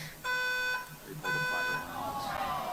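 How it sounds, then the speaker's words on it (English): A pulled fire alarm at an event blares in two loud, buzzing electronic tones, each lasting about half a second, with a short gap between them. Voices follow and talk over the tail of the second tone. "They're trying to stop the event by pulling a fire alarm."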